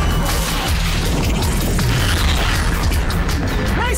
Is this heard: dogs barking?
no